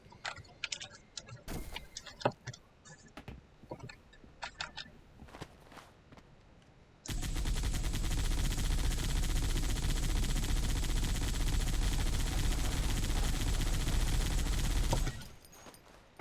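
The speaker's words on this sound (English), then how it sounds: "This is not overpowered because it's a stationary turret" A stationary chain gun turret fires in Halo 3, a dense, continuous roar of rapid shots lasting about eight seconds, preceded by scattered game clicks and footsteps and cutting off abruptly.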